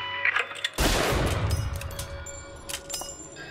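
A single loud gunshot in the video game BioShock Infinite, a sharp blast with a ringing decay, followed by faint scattered game sounds.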